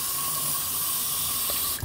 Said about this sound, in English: So I'm using unfiltered water to rinse it off.